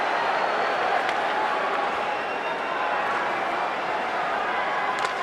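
A hockey arena crowd at a Bruins–Leafs NHL game keeps up a steady, diffuse roar of cheering, with a few faint sharp claps and whistles poking through the continuous wash of noise.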